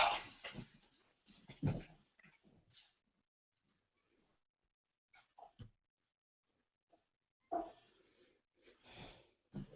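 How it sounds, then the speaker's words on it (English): An agitated dog indoors, giving bursts of whimpers, snorts and wheezy breaths at the start and end with a quiet stretch between, fairly close but not loud. "My dog is going crazy."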